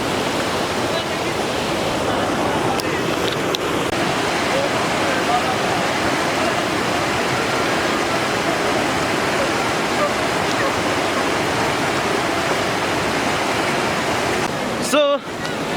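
Simba Falls in Lalitpur, Nepal roars as a constant, loud broadband rush of falling water, steady throughout with a brief handling bump near the end.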